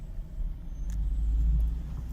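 A Citroën C5 pulls away beside a truck, its low engine rumble swelling steadily from quiet to fuller over about two seconds, close by with no talk.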